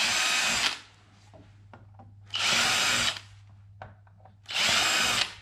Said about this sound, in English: I'm just going to drill each one of these out